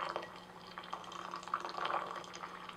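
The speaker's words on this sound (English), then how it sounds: "We need to pour very slow with your hot water." Hot water is poured slowly onto tender Bi Luo Chun green tea leaves, giving a faint, quiet trickle with soft irregular splashes and drips and no talking.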